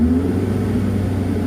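A Daihatsu Zebra Espass engine revved while it runs with an alternator belt fault, giving a loud, steady, close mechanical drone with a low hum throughout.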